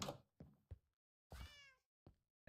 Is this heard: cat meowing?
yes